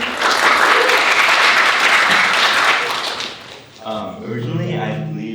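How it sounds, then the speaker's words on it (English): Audience applause at a university faculty debate on consciousness, a dense sustained burst of clapping and cheering for about three seconds, fading as a voice begins speaking over the tail. "let's give a round of applause for this"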